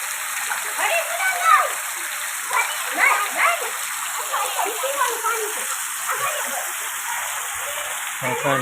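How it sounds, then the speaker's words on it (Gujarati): Heavy rain pours down in a dense, steady hiss with spattering on surfaces, while a person talks over the downpour. "વરસાદ બહુ વરસાદ વરસી રહ્યો છે."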